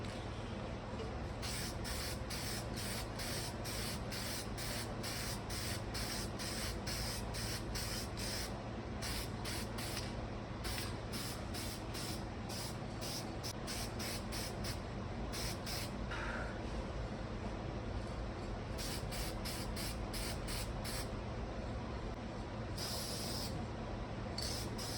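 Spray gun painting a 1977 Ford F150, firing a long run of quick, evenly spaced bursts with a brief pause partway through, over a steady low hum close by.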